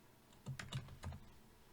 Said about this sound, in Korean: 컨트롤 시프트 P를 눌러서